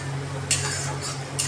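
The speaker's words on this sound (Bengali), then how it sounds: "তো চলো পেঁয়াজটা ভাজা হোক।" Onions frying in a pan, a steady low sizzle under two quick scraping strokes of a spatula against the metal, brief and close.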